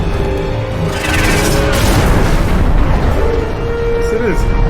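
A rocket launcher blast in the game Final Fantasy 7: Dirge of Cerberus, a loud, sustained booming roar with crackling debris that fills the whole clip, with game voices partly underneath.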